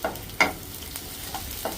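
Green chillies and chopped onion frying in a pan for a simple ivy gourd dish, a soft continuous sizzle with one sharp stirring clatter and a few lighter scrapes.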